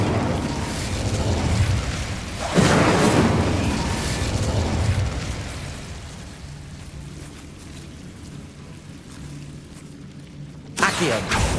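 The Incendio fire spell in Hogwarts Legacy bursts with a loud whooshing blast, followed by roaring flame rumble that fades, then another sharp burst at the end.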